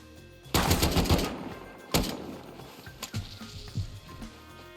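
AK rifle gunfire in the survival game Rust: a rapid burst of shots, then a single sharp shot and a few scattered quieter cracks, fairly distant.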